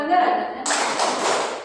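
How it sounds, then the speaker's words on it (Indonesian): A classroom group performs a rhythmic spirit clap during a lesson, a burst of brisk hand claps following a short spoken lead-in. "Tepuk semangat"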